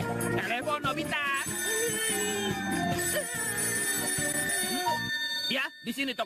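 A cartoon character's voice in an Indonesian-dubbed Doraemon episode imitates a ringing telephone with a steady, high, warbling tone that carries close and loud over a busy, music-filled background before cutting off near the end.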